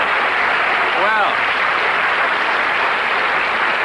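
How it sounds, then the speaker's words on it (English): Studio audience at a taping of the host's own show applauds in a steady, loud wash of clapping that fills the whole stretch, with a brief voice rising over it near the start. "Oh, you stopped applauding."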